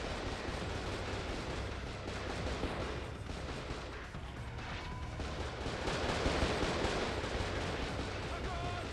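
Sustained automatic AK rifle fire in the PS2 survival-horror game Cold Fear, a dense, steady rattle of rapid gunshots running loud and continuous throughout with little variation in level.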